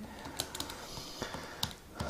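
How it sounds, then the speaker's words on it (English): Steady typing on a computer keyboard with slightly fiddly keys gives a run of light, close clicks and taps in an irregular rhythm, with no voices. "type on this keyboard"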